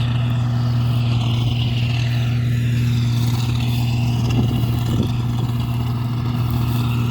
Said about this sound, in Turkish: Burada Iveco, burada da traktör.